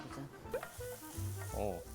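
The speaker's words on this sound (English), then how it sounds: "Garlic in the frying pan" Garlic sizzles in a lightly oiled frying pan, a soft crackling fry broken by stirring scrapes, faint and close.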